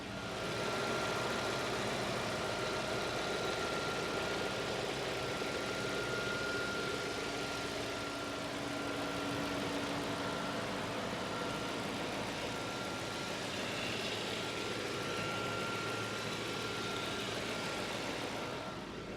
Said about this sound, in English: Sort of muffled V8 rumble to it, and I'll just let you listen to the engine from various places here.